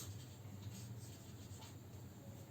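A pen or pencil scratches across paper while trigonometry notes are written, a faint, continuous soft scribbling close by with a steady low background hum.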